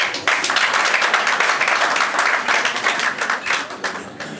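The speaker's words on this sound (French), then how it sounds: "je vais vous prier d'acclamer très fort le couple" Wedding guests at a French town hall ceremony clap and applaud the couple, a dense, steady burst of many hands close by that runs for several seconds before thinning at the end.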